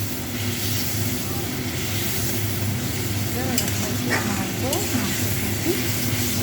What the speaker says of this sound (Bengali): মাছটা দিয়েছি, এরকম একটু নাড়াতে এটা ভালো আছে।